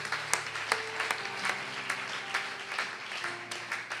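A church congregation applauds, a steady spread of hand claps at moderate distance filling the room, fairly soft and unaccompanied by talking.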